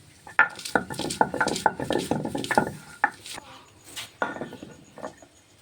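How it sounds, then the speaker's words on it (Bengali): Ginger and garlic pounded into paste by hand for a fish curry, irregular knocks and grinding scrapes in a kitchen, close and fairly loud, with short pauses between bursts. "আদা রসুন নিয়ে নিয়েছি, বেটে নেব।"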